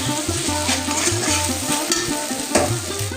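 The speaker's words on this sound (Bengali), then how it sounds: "আর এই পর্যায়ে এসে ভেজে রাখা বরবটিগুলোকে আমি অ্যাড করে দিচ্ছি। আর বরবটিগুলো দেওয়ার পরে হালকা হাতে মিশিয়ে নেব মশলার সাথে।" Fried long beans get stirred into a spice paste in a pan, giving a steady sizzle with scraping strokes and a low rhythmic scrape from the utensil, close and continuous.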